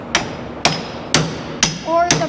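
A hammer strikes metal five times in a steady rhythm about half a second apart, each blow a sharp close clank with a short ring, in a welding shop; a voice speaks briefly near the last blows.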